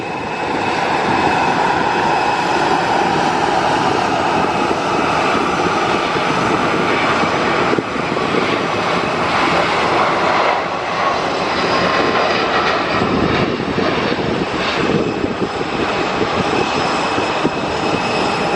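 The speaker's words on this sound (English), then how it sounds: "This is Airbus A321neo off to Tirana in Albania." An Airbus A321neo jet departs Luton Airport on a summer evening, its engines a loud, continuous broadband roar that holds steady for about eighteen seconds with only slight swells, and no voices.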